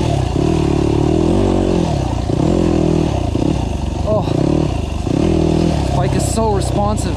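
GAS GAS EC250F enduro motorcycle ridden off-road, its engine droning loud and close with rising and falling revs and gear changes, mechanical clatter and scraping near the end.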